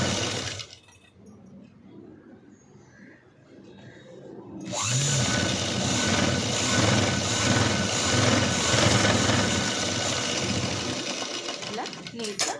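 A sewing machine stitches along the edge of a blouse sleeve, starting after a quieter stretch with someone talking, then running in a loud, steady rapid whir for several seconds before slowing.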